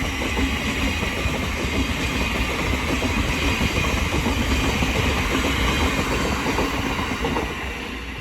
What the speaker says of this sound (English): Now departing is the 1505 Thameslink service from Cambridge to London King's Cross